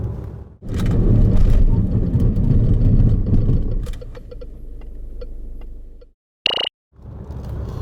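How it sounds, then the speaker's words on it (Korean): A Peugeot 5008 SUV undergoes a braking performance test: loud road and engine roar drops to a quieter hum as the vehicle slows, then fades out. A short electronic beep follows, with no talking. "푸조 5008 과연 제동 성능이 얼마나 되는지 한번 볼까요?"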